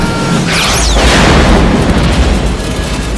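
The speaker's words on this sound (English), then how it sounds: "Grenade!" A grenade blows up in a Judge Dredd film scene, a loud, sustained boom with rumbling debris and a shrill whistling sweep above it, fading slowly over a few seconds.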